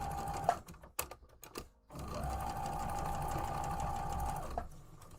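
A sewing machine stitches in two runs, a brief burst followed by a longer, steady whirring hum with fast rhythmic needle chatter, heard up close between a few handling clunks.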